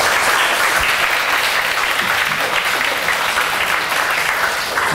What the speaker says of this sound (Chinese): 那我们热烈的鼓掌